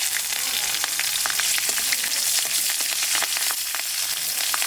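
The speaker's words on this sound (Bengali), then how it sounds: "তেলের পর দিয়ে দেবো তেজপাতা, জিরে, আর দেবো কটা কাঁচা লঙ্কা" Bay leaf, cumin seeds and green chillies sizzling in hot oil, a loud continuous close frying hiss with small popping crackles throughout, no talk.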